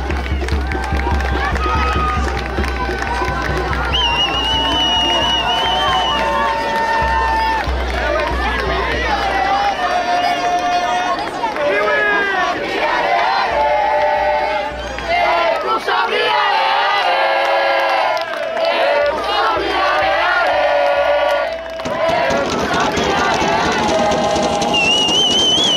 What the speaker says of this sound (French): Sous un tonnerre d'applaudissements du public qui était chaud ce soir